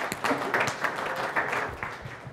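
An audience at a project management training session claps in a brief, steady burst of applause, moderately loud and filling the room.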